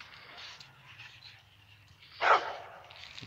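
A dog barks a short burst of warning at another dog in a dog park, one loud, close bark standing out above quiet background noise.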